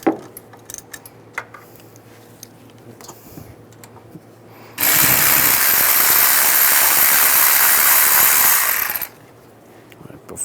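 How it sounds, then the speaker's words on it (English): A 13mm socket on a tool works loose an alternator bolt on a 1998-2010 Volkswagen Beetle: about four seconds of loud, continuous, harsh mechanical buzzing close by, set between quiet stretches of faint clicks and handling noise. "Now using a 13mm socket, we're going to take this bolt out here."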